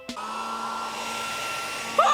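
A hair dryer in the ThunderCats Roar cartoon, switched on with a click and then a steady, even whirring hum at moderate loudness, ending in a brief squeaky cartoon effect.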